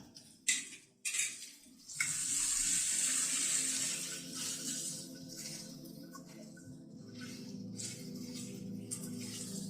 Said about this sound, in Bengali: আদা বাটাটা থেকে দিয়ে একটুখানি নাড়াচাড়া করে নিচ্ছি।